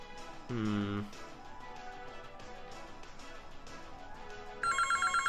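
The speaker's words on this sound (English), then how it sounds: "It's my phone ringing." A phone rings with a short electronic tone, then a brighter repeating ringtone starts near the end, over a steady background with speech-like sounds.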